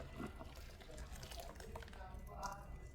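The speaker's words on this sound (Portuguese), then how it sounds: "Vamos acrescentar aqui 8 litros de água lá da torneira." Tap water pours and splashes into a batch of pool-chlorine soap being mixed, a steady liquid sound with faint voices underneath.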